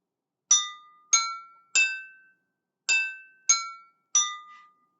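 Drinking glasses filled with different amounts of water are struck one at a time, giving six clear ringing notes at different pitches. They come in two groups of three, each tone decaying quickly, close up with no talking.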